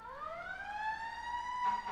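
A police and emergency vehicle siren wails outside a Manhattan apartment with the windows closed, its pitch rising steadily in a continuous tone that holds loud and fairly near.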